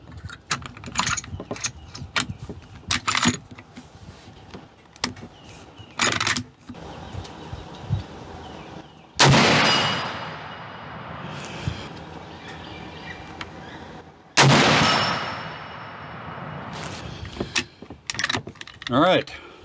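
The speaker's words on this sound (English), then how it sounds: "All right, two shots, 100 yards." .45-70 rifle fires twice at a 100-yard range, two sharp loud blasts several seconds apart with long ringing decay, surrounded by faint handling clicks and rustling.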